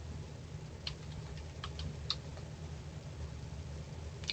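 Light, scattered keystrokes on a computer keyboard, faint and close, a few sharper clicks spaced irregularly over a soft steady background hum.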